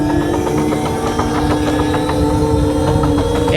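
Steady electric whine and drivetrain hum from a MilePop 1 3000W electric motorcycle ridden in third gear at easy throttle, loud and close with constant road rumble underneath.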